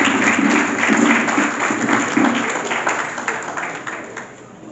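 A church audience applauds in a steady, dense wash of clapping that holds for several seconds and then gradually fades and thins out.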